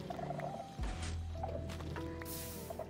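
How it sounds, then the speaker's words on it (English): Fowl clucks and gobbling calls from Minecraft chickens on a redstone farm, several short calls scattered over a low game hum, fairly faint, with a soft thud partway through. "This whole farm is going to generate so many chickens."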